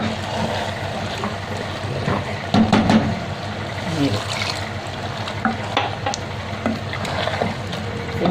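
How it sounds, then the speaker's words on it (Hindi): Water poured into a hot pan of roasted white chickpeas while cooking anda cholay, giving a continuous sizzling, bubbling rush with a few louder splashes and stirring sounds throughout. "तो ये देखें मैं इसमें पानी डालने लगी।"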